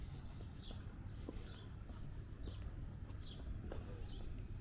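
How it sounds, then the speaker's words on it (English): Birds call at dawn along a Brooklyn street near Shore Parkway, repeated short chirps rising at intervals over a constant low rumble of distant city traffic, faint and somewhat far off. "All the birds are waking up and letting everybody know we're here."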